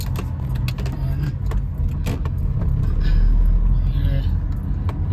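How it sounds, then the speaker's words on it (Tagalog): Cars roll along a road early on a drizzly morning, a continuous rumble of traffic that swells near the end, heard close from within a moving vehicle, with small rattles and jangling on top. "Ilan pa lang sasakyan dumadaan sa mga karsada ngayon."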